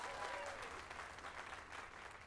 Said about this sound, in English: Let us give a round of applause for young Fulvio